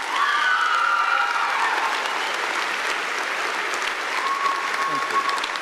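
An audience at a graduation ceremony claps loudly and steadily, the applause starting full and tapering gradually over several seconds, with faint crowd murmur beneath.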